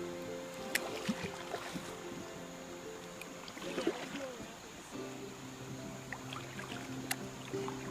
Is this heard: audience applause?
no